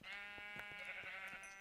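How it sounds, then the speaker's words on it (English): A sheep bleats in a video game as it is slaughtered, its harmonic cries sounding over a steady game soundtrack, with a few short thumps from the attack mixed in. "Killing a sheep. Senseless murder of a sheep."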